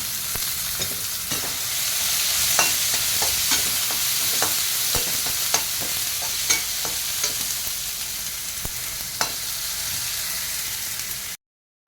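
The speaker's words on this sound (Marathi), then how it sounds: "कांदा भाजत आलेला आहे आता तर टोमॅटो घालतो" Onion and tomato frying in a pan for stuffed brinjal curry, a continuous close sizzle broken by a dozen or so sharp scrapes and clinks of a spatula against the pan, no talking.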